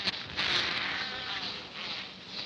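Bees swarm over honeycomb holding eggs and larvae, their dense continuous buzzing close and fairly loud, swelling and fading slightly as they move, with no talking.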